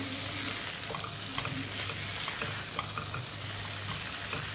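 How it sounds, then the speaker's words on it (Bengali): Prawn curry with taro and chillies sautéing in a pan, a constant close sizzle with soft stirring scrapes and occasional clicks of the utensil, no voices. "আমি তরকারিটা একটু কষে নেব।"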